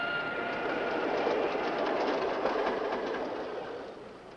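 A passenger train runs steadily on rails in a 1957 film, a continuous close rumbling rattle with faint rhythmic clatter that slowly eases toward the end, no voices.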